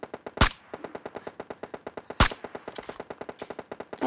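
An M416 rifle in PUBG Mobile fires a long rapid-fire spray of evenly spaced shots, close and crisp, with a couple of louder sharp cracks standing out.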